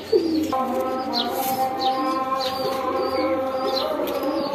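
A female racing pigeon coos nearby, low repeated calls beneath sharper chirps from other birds and a steady tonal hum in the background.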